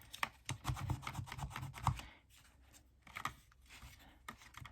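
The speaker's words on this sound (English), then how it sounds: "And then you just want to burnish in between each fold, just like that." A bone folder burnishes paper between the folds of a handmade waterfall journal cover, with quiet close-up rubbing strokes in a quick uneven rhythm, then a short pause and a few more passes.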